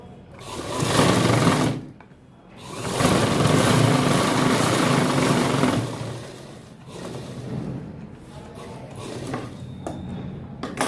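A sewing machine stitches salwar fabric in three runs of steady rapid whirring, each separated by a brief pause, close and loud with no voices.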